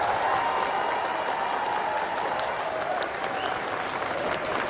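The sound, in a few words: audience applause welcoming Dinesh Shah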